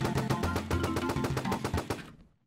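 A railgun firing in the Roblox game Arsenal, heard as a loud rapid burst of about a dozen sharp shots in steady rhythm that cuts off after two seconds, with no talking.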